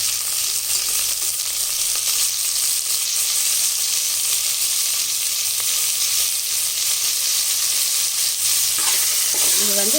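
Onions and tomatoes fry in a pan for restaurant-style chicken kulambu, giving a loud, dense, unbroken sizzle throughout, with faint stirring underneath and no talk.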